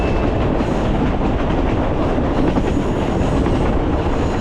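Passenger train with seated coaches and an observation car rolling along rails, a steady loud rumble with faint clickety-clack running throughout, close and continuous with no talk.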